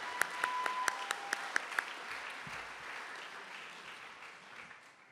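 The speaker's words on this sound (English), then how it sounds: "Can we get one more round of applause for that inspiring," An audience applauds steadily after a speech at a 2020 Martin Luther King, Jr. multifaith celebration, a dense, sustained clapping wash with a few sharp tones near the start, slowly thinning toward the end.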